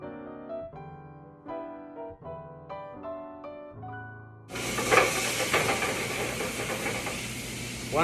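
Chopped onions hitting hot blended oil in a pan start a loud, steady broadband sizzle that bursts in halfway through, following a few seconds of background music, and continues without pause to the end.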